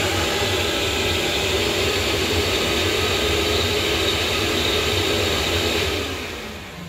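A flow bench runs steadily on a ported small-block Ford GT40 tubular intake manifold, a loud, continuous broadband roar with a faint high whine, holding even for about six seconds before starting to wind down at the end.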